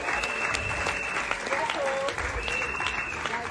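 An audience claps steadily for several seconds at a business gathering, a dense continuous applause with a few scattered cheers mixed in.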